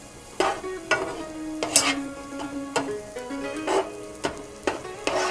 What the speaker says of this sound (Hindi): थोड़ा सा तेल ड्रिज़ल किया है और इसको हम गरम करते हैं। सॉफ्ट करेंगे मक्खन को।